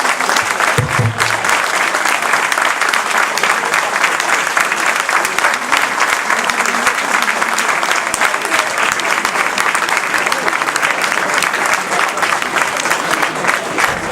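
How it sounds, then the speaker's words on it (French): An audience gives sustained applause after a 2018 match event with Senegalese colours, dense and steady for about fourteen seconds, with an occasional voice above the clapping. "je vous demande vraiment, sincèrement, 10 secondes d'applaudissements pour Kabir."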